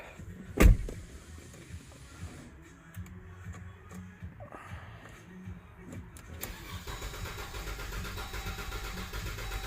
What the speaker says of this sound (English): So we're gonna crank this, do a clear flood crank